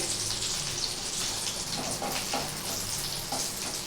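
Steady crackling sizzle of cheesy chicken kebabs frying in hot oil, continuous and fairly close, with no voices.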